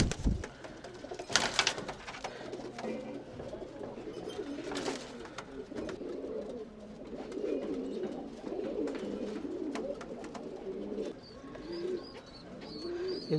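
Tumbler pigeons in a loft coo softly and repeatedly, with low, throaty murmurs running through most of the clip and a couple of brief rustling bursts of wing or movement.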